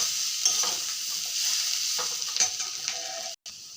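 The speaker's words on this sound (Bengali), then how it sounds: "এখন জলটা দিয়ে দেব।" Spices frying in a pan for a Bengali dried-fish curry as water goes in, a soft steady sizzle with a few stirring scrapes and brief louder hisses.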